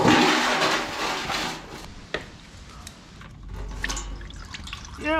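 Engine oil drains from a 1978 Kawasaki KZ1000 motorcycle, a steady liquid pour and trickle that is loud at first, then fades to thinner dripping and splashing, close up with no talk.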